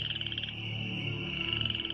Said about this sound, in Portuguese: No Egito, milhões de rãs do rio Nilo saíram da água e invadiram as terras.